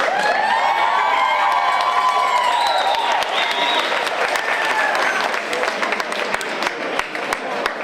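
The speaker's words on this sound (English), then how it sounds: "How about another round of applause for our Hunks?" At a charity event, an audience breaks into loud applause with high cheering and shouts, including children's voices, whoops sweeping over dense clapping that continues steadily to the end.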